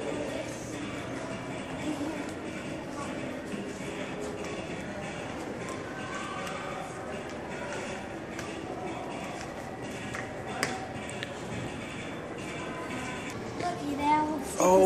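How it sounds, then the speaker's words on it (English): A train rumbles and rattles steadily in the background at the California State Railroad Museum in Sacramento, with faint clicking of wheels on rails, while people talk quietly nearby. "Oh, my favorite train, right there."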